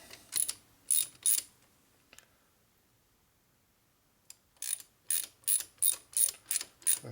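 A ratchet wrench clicks in quick bursts as bolts are tightened during a 2001 Indian Scout motor rebuild with an S&S 88ci big-bore kit. Close, crisp ratcheting comes in two clusters separated by a quiet pause.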